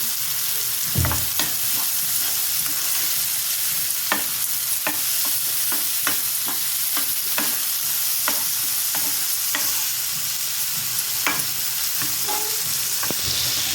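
A dish with onions and salt stirred in a pan on a low flame, a constant frying hiss punctuated by regular scraping clicks of the spoon.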